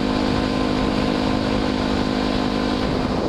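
A motorcycle engine roars loudly and continuously during a ride, a dense steady drone with wind noise that fills the whole span.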